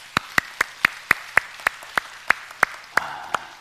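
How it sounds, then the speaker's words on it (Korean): A church congregation claps in a slow, even rhythm at a Sunday service, about a dozen sharp separate claps close by, with no voices over them. "우리 하나님께 영광의 박수 올리겠습니다."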